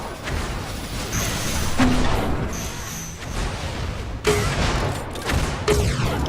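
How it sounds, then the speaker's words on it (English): Gunfire in a competitive Assault Cube match, with a sniper rifle among the weapons: several sharp shots and impacts over a noisy game background, a heavy burst near the end, faint commentary voices underneath. "He went in with a sniper rifle."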